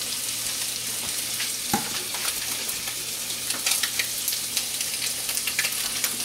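Crab cakes fry in oil in a pan with a steady, close sizzle and scattered sharp crackles and pops, with no talking.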